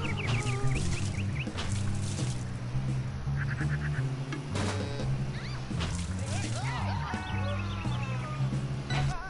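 Honking bird calls from the video game Roundabout come in repeated bursts of varied pitch over a steady low drone, with someone talking throughout.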